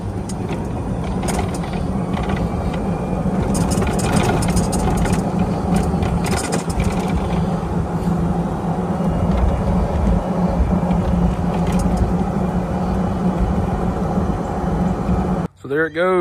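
An electric golf cart running on a KEZIMO 48V 105Ah battery drives along with a steady mechanical whir and rattling of gears and chassis, a continuous near rumble that cuts out abruptly near the end.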